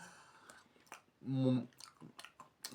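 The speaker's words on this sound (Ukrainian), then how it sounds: "Я їм." Minions candies chewed up close, with wet crunching, smacking and little clicks, and a short voiced hum in the middle.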